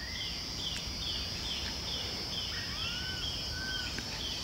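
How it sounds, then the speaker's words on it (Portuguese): Black birds sing outdoors with short, clear whistled calls and rising chirps spaced across the moment, over a steady high insect-like drone. "É quando eu paro para ouvir esses pássaros, eu paro,"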